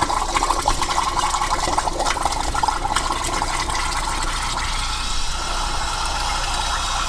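A compressed air duster held upside down sprays onto a water-filled cup to freeze it, giving a loud, steady, close hiss that runs without a break for the whole stretch.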